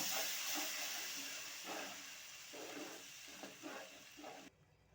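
Ground tomato paste fries in hot oil in a pan with spices, giving a broad, steady sizzle and hiss up close, plus a few stirring scrapes, before the sound cuts off near the end.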